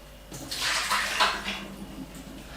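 Water pours from a pot of potatoes into a kitchen sink to drain them, a steady close rushing splash that swells and then tapers away.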